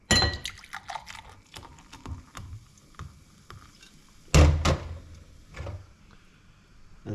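Beer poured into a glass, a close gurgling, splashing pour with clinks of glass and a louder burst partway through, then fizzing trickles.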